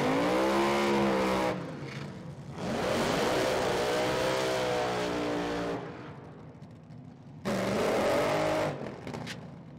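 Top alcohol dragsters at an NHRA Four-Wide Nationals drag race roar loudly through burnouts in three long bursts, engines screaming up in pitch with brief quieter gaps between them.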